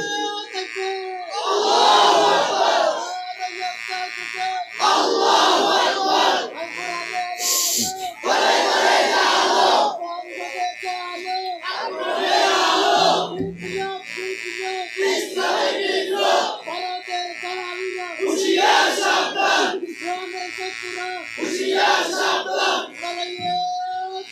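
A crowd chants the takbir in repeated loud bursts, one voice calling and many answering in unison, with short pauses between each shouted phrase.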